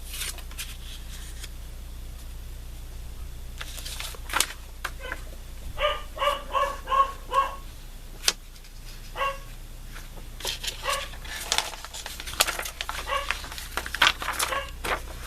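Several dogs barking in a home crafting space, with bursts of sharp barks in the middle and more scattered, irregular barks later, fairly close and clear over a quiet background.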